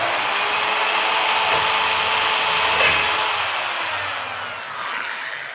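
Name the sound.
drill enlarging hole in RC catamaran body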